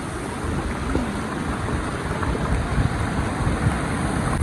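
Water pouring steadily at Sautada waterfall in Beed, a continuous broadband rush with slight wind buffeting, close and unbroken throughout.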